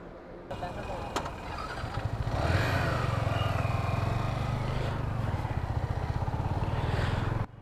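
Motorcycle engine running steadily during a ride, a loud rhythmic throb that picks up and holds with wind rush and some clatter, close and continuous with no talk.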